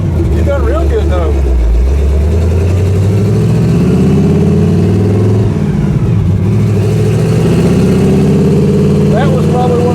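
A 1976 truck with a 456 rear end on a street dyno, its engine loud and close as it holds on a two-step limiter and revs in rising sweeps, with voices talking over it.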